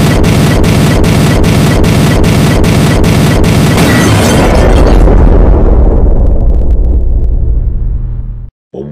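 Explosion sound effect: a loud, sustained roaring blast with rapid crackling bursts at first, settling into a deep rumble that fades out before a brief cut at the end.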